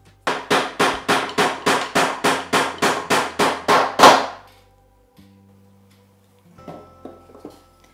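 Hammer driving nails to fix pieces of wire coat hangers onto a base for a homemade coat rack: about fourteen quick, evenly spaced loud metallic blows in a steady rhythm, then quieter handling and small knocks.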